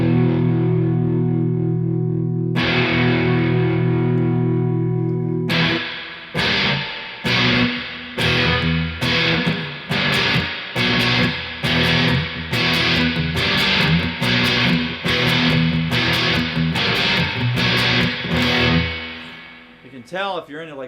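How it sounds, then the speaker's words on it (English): Guitar chords played through a Buzzword Buzzard overdrive fuzz pedal set to a broken-speaker tone, heavily distorted and loud: a long sustained chord, then a run of rhythmic chopped strums that fade out at the end. "here's a setting that I dialed in with the Buzzword pedal. This one I'm going to call like a broken speaker"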